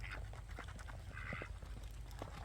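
Ducks on a homestead, including several males, make soft, rough quacks and nasal calls in a quick irregular series, faint and somewhat distant over a low background hum.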